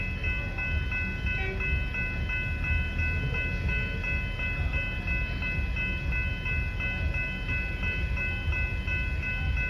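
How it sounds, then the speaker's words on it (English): Tropolis electric train passing the Main Hurstbridge Road level crossing at Diamond Creek, Victoria, a steady loud rumble with sustained tonal horn notes over continuous rolling noise, close by and without talk. "Yup, I heard an Tropolis horn."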